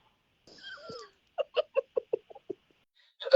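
A cat answers a call with a drawn-out meow followed by a rapid string of short chirping meows, close and clear in a quiet room, ending with a faint clatter.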